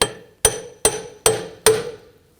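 Four sharp metallic hammer strikes on a punch, driving a rear control arm into place on a 2000-2006 BMW X5, evenly spaced and close, each ringing briefly before fading.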